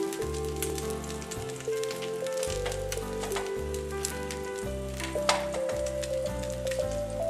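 Eggs and sausages frying in a pan over medium-high heat for a home breakfast, a steady close crackling sizzle with scattered pops, under continuous background music.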